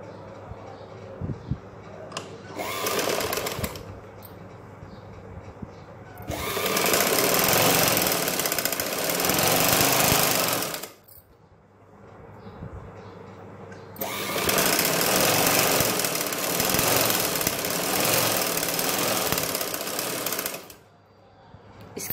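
Sewing machine stitching fabric for a front neckline, running in two long, loud, steady runs of close mechanical whirring with brief quieter gaps and small handling sounds between.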